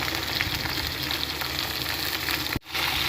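Sandwich bread frying in a pan with only a little oil, a steady, close, dense sizzle that runs almost unbroken, with one brief dip near the end.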